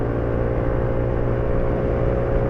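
A Yamaha NMAX scooter engine running on Prima XP 20W50 oil after hard riding, a steady close hum with an even low drone and faint whir, unchanging throughout without any voices.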